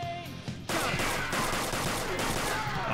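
Sustained gunfire in the video game Persona 5, a dense continuous roar of rapid shots that starts abruptly and stays loud throughout.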